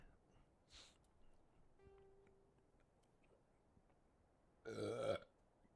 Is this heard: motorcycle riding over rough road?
no